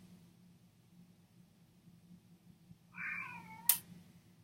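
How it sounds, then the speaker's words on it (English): A pet cat gives a single clear, moderately close meow near the end, with a short sharp click or tap right after, over a quiet room hum. "Okay, I hear my cat,"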